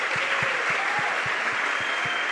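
A church congregation claps steadily and loudly after a sermon, dense applause filling the room from start to finish.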